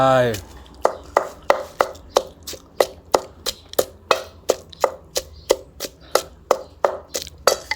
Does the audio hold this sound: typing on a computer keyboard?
no